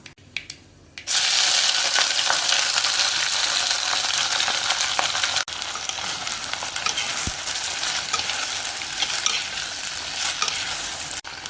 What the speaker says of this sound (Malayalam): കടുക് പൊട്ടിക്കഴിയുമ്പോൾ ഇതിലേക്ക് കോവക്ക ഇട്ട് ഇളക്കി കൊടുക്കാം.